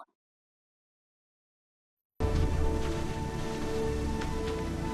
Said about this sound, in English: One night, it started raining.